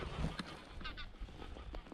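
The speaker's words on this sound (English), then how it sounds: "some grey lag geese" Greylag geese honk in a short burst of several calls, moderately near, with some background noise from the open countryside around them.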